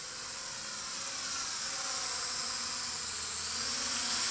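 A modified RC flying toy runs at full throttle, giving off a steady high-pitched whine and hiss that holds nearly constant and swells slightly as it continues, close and alone.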